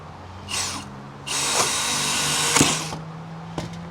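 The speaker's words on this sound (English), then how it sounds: "got a drill, 3/8 drill bit. Let's put a hole in this bone right here" A power drill with a 3/8 bit whirs in a short burst, then runs steadily for over a second as it bores through the bone of a prime ribeye cowboy steak, stopping with a few clicks.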